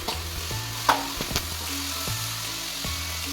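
Mixed potatoes, beans and capsicum fry in a pan, producing a steady crackling sizzle broken by a few clicks and scrapes of stirring, with no voices.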